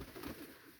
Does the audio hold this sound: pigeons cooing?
yes